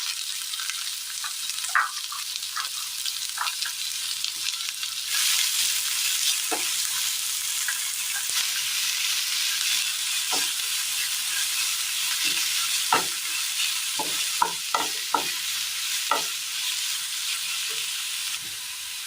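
Onions fry in a pan with a steady, loud sizzle throughout, while a spoon stirs them with scattered scraping clinks against the pan.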